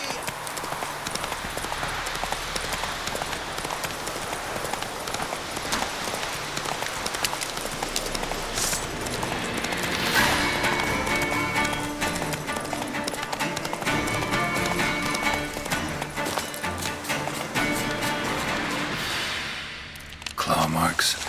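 Roach the horse gallops in The Witcher 3, her hoofbeats a steady, fast clip-clop that runs almost the whole time over a dense layer of game ambience and rain-like hiss.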